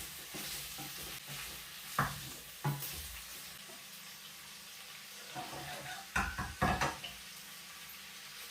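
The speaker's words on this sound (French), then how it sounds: "tourner de temps en temps pour ne pas brûler la viande" Smoked meat cooking in a pot for gombo sauce, a faint low sizzle broken by scattered stirring knocks and scrapes that cluster into a quick burst near the end.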